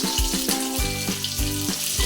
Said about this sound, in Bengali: এখন আমরা দিয়ে দিচ্ছি পেঁয়াজ কুচো